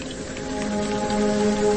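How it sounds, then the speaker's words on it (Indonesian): Heavy rain pours down steadily near a parking area at night, a dense continuous hiss of drops with no voices. "mengecek apakah hujan masih besar atau sudah mereda"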